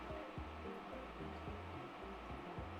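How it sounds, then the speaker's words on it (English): A beefy cooling fan in an induction cooktop runs as a steady, fairly quiet whirring hum, with a few faint low knocks and nothing spoken over it. "The Induction has got a pretty beefy fan going."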